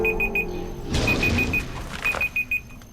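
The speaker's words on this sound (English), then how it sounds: "And that's the timer." A video game timer alarm beeps in quick repeated pulses, three short tones, a burst of noise, then two more runs of four or five evenly spaced beeps, clear and fairly loud.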